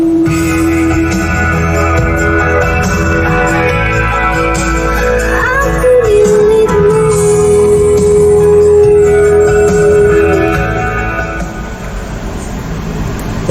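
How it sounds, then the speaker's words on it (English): Music plays loudly from the Infinity sound system inside a 2023 Wuling Almaz 2.0 Hybrid RS, a full, continuous sound with sustained tones and bass, heard from within the cabin and easing off slightly at the end. "The sound quality sounds brilliant from the Infinity sound system."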